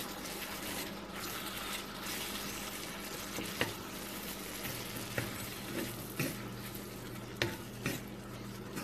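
Tomatoes for a Salem-style tomato gravy cook over a high flame, a low continuous sizzle under repeated scraping and tapping of a spoon against the pan every second or so, with no talking.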